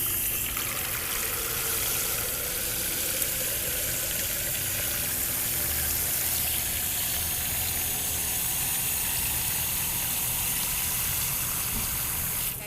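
A garden watering hose runs steadily outdoors, filling with water in a continuous hiss and trickle, fairly close and loud, with a low engine-like hum underneath and no talking.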